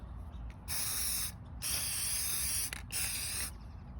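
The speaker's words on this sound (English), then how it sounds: "now I am going to seal them with Rust-Oleum semi-gloss clear" Rust-Oleum semi-gloss clear sealant sprayed from an aerosol can in three steady, loud bursts of about a second each, with short pauses between them.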